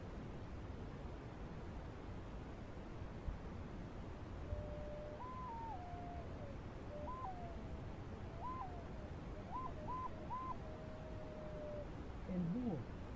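A Teotihuacan clay wind instrument sounds owl-like hoots: a series of short, clear whistled tones in irregular groups over a steady hiss, moderately loud and alone, ending with a lower wavering call.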